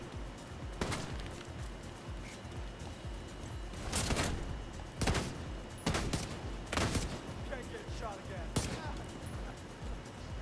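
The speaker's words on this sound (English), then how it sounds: "Look at these guys sniping us with that shotgun." Enemy shotgun fire in The Division 2, several loud separate blasts spaced a second or two apart over steady game noise and music, with a voice talking in between.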